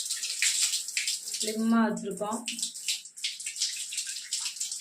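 Hot water running hard from a household tap, a steady hiss of flow throughout, with a person speaking briefly over it partway through.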